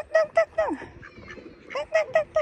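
Ducks at a lakeside camping site in Sweden give several loud, close honking quacks in two quick bursts separated by a short pause.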